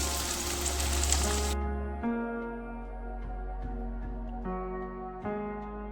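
Chopped onions sizzle in oil for mutton curry, a loud bright hiss at first that drops abruptly, followed by quieter frying under sustained musical tones.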